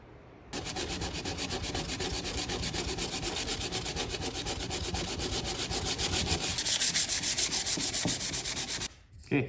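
Sanding wood on a playing card tray with a power sander, a continuous gritty rubbing buzz that starts abruptly, runs steady and close for several seconds, then cuts off, with no voices.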